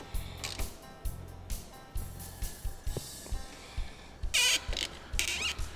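Metal clamps squeak and creak while being tightened on a flip windshield of a Polaris RZR Pro R, a series of short rhythmic squeaks and ratcheting creaks close by, with a few sharper high squeals near the end.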